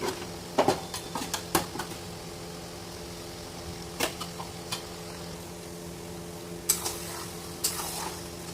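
Eggs poured into a hot pan of spiced chicken masala, sizzling steadily with sharp clinks and scrapes of a spatula against the pan, close and without talk.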